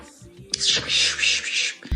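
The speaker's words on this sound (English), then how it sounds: "That's the sound of my fork scraping the pan." A short metallic scraping, harsh and hissy, a fork drawn twice across a pan at close range, ending in a sharp clatter.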